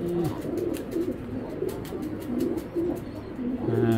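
Racing pigeons coo in repeated low, throaty phrases close by, with a steady backdrop of pigeon calls and a few brief chirps, no voices.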